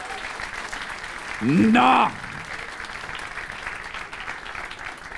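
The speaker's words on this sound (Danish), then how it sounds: "Giv en stor hånd til Camilla!" An audience at a Danish gaming awards show applauds, a steady wash of clapping throughout, briefly overlaid by a voice calling out.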